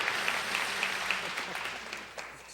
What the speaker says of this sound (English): Somehow the applause is getting quieter up there